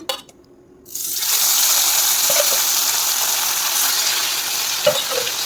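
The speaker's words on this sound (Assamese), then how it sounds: "তেল গৰম হৈ গৈছে, মাছ কেইপিচ দিছোঁ।" Pieces of fish dropped into hot oil burst into a loud, steady sizzle that sets in after a second of quiet and keeps frying evenly close by, with a few small pops and spatters.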